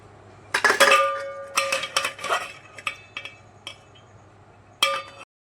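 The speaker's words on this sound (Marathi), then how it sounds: "आता हे अंडे उकडलेले सोलून घेऊ" Boiled eggs being peeled for an egg curry give off a scattered series of sharp clicks, taps and light clinks from the cracking shell against a hard kitchen surface, close and crisp with quiet pauses between them.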